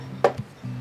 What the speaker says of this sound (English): I'm just chopping some vegetables